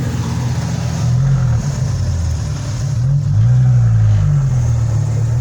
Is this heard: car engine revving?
yes